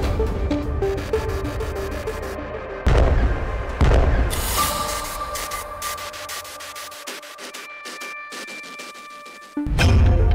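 An Iranian intercontinental missile launch produces loud, rumbling blasts with sharp booms near three, four and nine seconds, set against sustained roaring noise and steady tonal hums.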